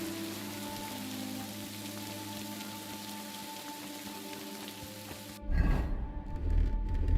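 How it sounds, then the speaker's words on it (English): Steady rainfall in a video game patters evenly for several seconds, then gives way abruptly to a louder, rougher rushing wash near the end, with no voices. "And it's raining."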